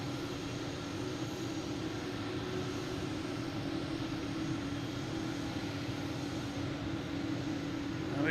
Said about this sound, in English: we got the 747 trying to sneak in around us here